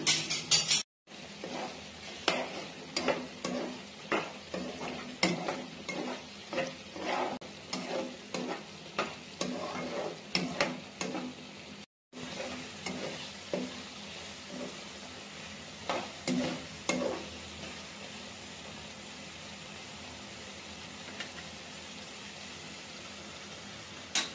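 Beef liver bhuna fries in a pan with garam masala while a spoon scrapes and stirs in a steady rhythm of repeated strokes over a continuous sizzle, then the sizzle carries on alone.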